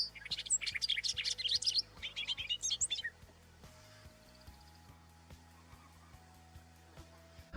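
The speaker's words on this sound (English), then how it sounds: "grassland birds singing around me. Grasshopper sparrow and western meadowlarks," Grassland birds sing on a Montana morning, with grasshopper sparrow, western meadowlark and bobolink trilling and chirping in dense, rapid bursts for about three seconds, then falling away to a low engine-like hum with faint calls.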